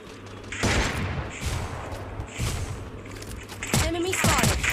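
Bursts of gunfire from the Free Fire MAX battle royale game, several rapid volleys separated by short pauses, with game sound effects mixed in.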